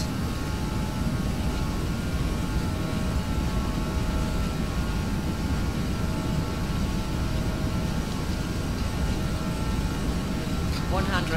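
Loud, steady roar of airliner jet engines at takeoff power in a flight simulator game, filling the whole span with a dense, unbroken rumble and a faint rising tone near the end.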